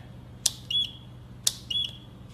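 Sharp clicks each followed by a short high-pitched electronic beep repeat in a steady rhythm, close and fairly clear over low hum.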